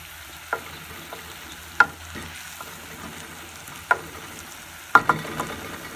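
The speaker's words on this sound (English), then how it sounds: "You just want to stir and put the stove off." Stir-fried cabbage with coriander in a pan, heard as soft scattered spoon scrapes and taps over a faint low sizzle, with a few sharper clicks spaced a second or so apart.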